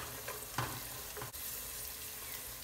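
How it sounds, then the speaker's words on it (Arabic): Walnuts and raisins toasting in a hot pan, a steady close sizzle with a few soft stirring scrapes, no voices. "نحمصهم شوي"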